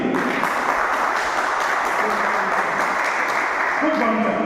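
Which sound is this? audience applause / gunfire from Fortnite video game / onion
audience applause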